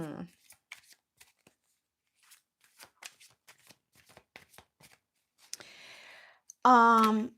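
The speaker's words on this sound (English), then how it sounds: "Thank you for your patience as I shuffle" Deck of tarot cards being shuffled by hand, with scattered soft riffles and taps through the first seconds, then a steadier, longer shuffle near the end, ending on a short burst of voice.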